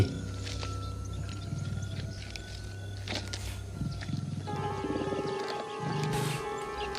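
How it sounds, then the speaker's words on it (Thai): A tiger roars and growls in a deep, rumbling stretch that carries on without a break, loud and close, with no talking over it. "นางสมิงครางคำรามใส่พร้อมจ้องเขม็งมาบนห้าง"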